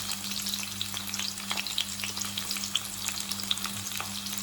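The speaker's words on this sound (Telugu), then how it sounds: "రెండు ఉల్లిపాయలు సన్నగా కట్ చేసి పెట్టి వాటిని చక్కగా వేసి ఫ్రై చేయవలెను" Two thinly sliced onions fry in oil in a pan while Bagara rice with coconut milk is cooked, giving a steady soft sizzle with light stirring scrapes and small crackles, no voices.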